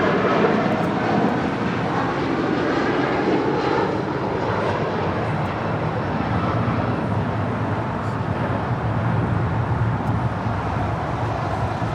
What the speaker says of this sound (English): 1637 taking off to Newark on a 757-200